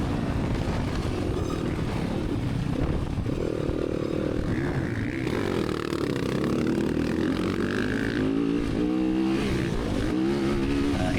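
Several KTM 350 dirt bikes race past with sustained, loud engine roar and rising revs, the pitch climbing and falling as riders accelerate through the course, continuous throughout with no talking.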